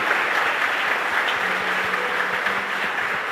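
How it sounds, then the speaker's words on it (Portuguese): A church congregation at an Easter vigil mass claps in dense, sustained applause that fills the space at a moderate distance. "Vamos dar para esses irmãos também uma salva de palmas"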